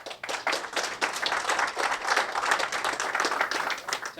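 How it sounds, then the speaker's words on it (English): Evening meetup audience in Las Vegas giving a round of applause for the second speaker, dense steady clapping from many hands that carries on for several seconds. "let's have a round of applause for our second speaker this evening"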